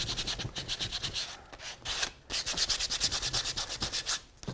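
Rhythmic sanding scrapes back and forth across a painted reclaimed wood panel, close and fairly quiet, with a couple of short pauses.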